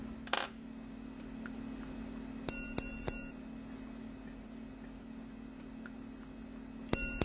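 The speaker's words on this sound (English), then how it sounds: "After counting down a pre-selected time interval, a triple repeater sounds, engineered by a gong fashioned from one piece of metal." Triple repeater on a Glashütte chronograph watch striking a gong made from one piece of metal, a few faint bright metallic chimes in a quick cluster, then another later strike, against quiet mechanical hum.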